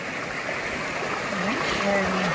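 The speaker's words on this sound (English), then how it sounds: "So we come to this little creek." A small creek on a mountain hike trickles and babbles in a steady wash of water noise, with a person speaking over it partway through.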